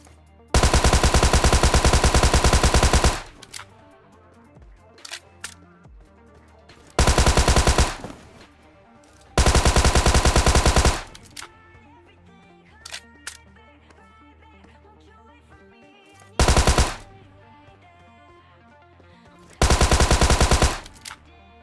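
A Tommy gun in PUBG Mobile rattles out five loud bursts of rapid automatic fire, some long and some short, separated by near-quiet gaps.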